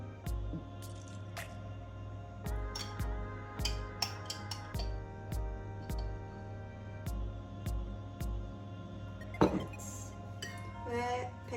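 A spoon stirring yeast into warm water with a little grape molasses in a plate, making soft clinks and wet squishing in a steady irregular rhythm, close and moderately quiet.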